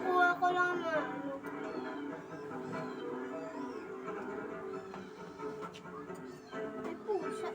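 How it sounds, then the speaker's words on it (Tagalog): A cat meows a few times, drawn-out wavering cries, with a person speaking nearby in a small indoor space. "Ay, pusa."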